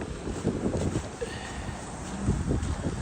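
Gusty wind buffeting a microphone outdoors while walking near McLaren Park, a continuous low rumbling roar with swelling gusts and faint background noise throughout.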